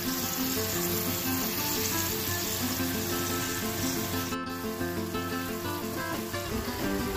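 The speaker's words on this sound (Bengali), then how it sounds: "মশলাটা জলের সাথে বেশ ভালো করে মিশিয়ে নিচ্ছি" Spice paste for a rohu fish curry being mixed with water in a hot pan, giving a steady close sizzle and bubbling that runs evenly throughout with no talk.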